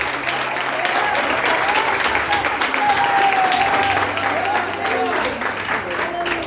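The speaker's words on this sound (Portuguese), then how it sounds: "dá uma salva de palmas para Jesus" A church congregation claps steadily and loudly during a worship service. The applause runs continuously, and a voice rings out over the crowd throughout.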